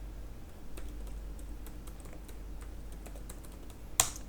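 Someone types a Laravel PHP artisan command on a computer keyboard, producing a quick run of soft, close keystrokes that ends in a sharper key press.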